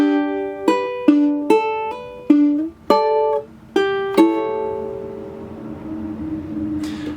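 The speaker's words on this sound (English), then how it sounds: "That strummed section sounds like this." Guitar chords strike one after another in a steady pattern, each ringing briefly before the next, then a final chord fades out slowly.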